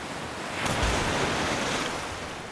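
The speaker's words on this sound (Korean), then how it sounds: "파도는 어제보다 더 높아 보였고 오후 2시쯤 되자 거친 파도로 배가 심하게 흔들리기 시작했다" Rough ocean waves surge and wash in a continuous broadband roar, swelling louder midway as a bigger wave breaks, with no voices present.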